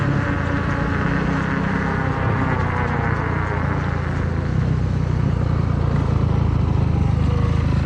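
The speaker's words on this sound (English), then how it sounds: "E-bikes and dirt bikes." Dirt bikes and e-bikes riding out together: a continuous, loud engine drone with a steady buzzing whine, holding constant throughout with no pauses.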